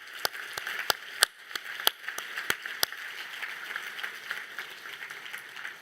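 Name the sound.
audience applause for a team at a ceremony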